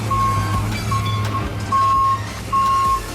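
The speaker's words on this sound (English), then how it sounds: "a mixer truck has a rotating drum at the back, used to mix and transport fresh concrete to construction sites" A concrete mixer truck with a rotating drum reverses, steady electronic beeps repeating four times at an even pace over a loud, continuous diesel engine rumble close by.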